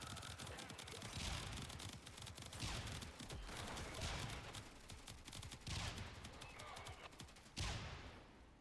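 Warframe gunfire rattles in quick automatic bursts, dense crackling volleys broken by short gaps, playing at low level with no voices over it.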